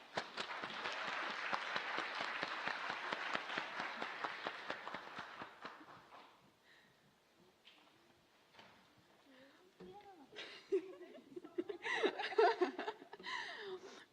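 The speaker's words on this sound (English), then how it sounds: "So a round of applause for our senior editors, as well as some gifts." An audience at a literary and arts magazine event claps for its senior editors, a dense burst of applause lasting several seconds before fading into scattered chuckles, laughter and talk.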